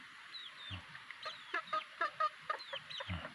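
Cobra-breed chickens calling in a yard, a string of short high clucks and squawks, some overlapping, at moderate distance over faint background noise.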